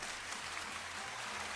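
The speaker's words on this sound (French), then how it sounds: "elle est là Raouia, mais c'est incroyable, on l'applaudit d'abord." Studio audience applause greeting a guest on a radio show, a steady crackle of clapping filling the short stretch, with a faint low musical hum beneath.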